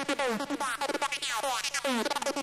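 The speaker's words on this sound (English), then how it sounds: "so that's pretty much what I threw together to get this acid lead" Acid lead synth from the V-Station plugin playing a psy-trance line on one note with no effects, dry and buzzy with rapid resonant filter sweeps and a choppy staccato rhythm, heard alone.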